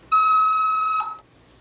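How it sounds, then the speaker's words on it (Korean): A 1992 Seoul home telephone gives one electronic ring, a steady bright tone lasting about a second that then cuts off, heard close and alone. "전화 받아요"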